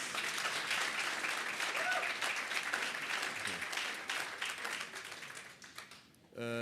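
Audience applause at a sustainable energy week conference session, a steady wash of many hands clapping at moderate volume that thins and fades out toward the end.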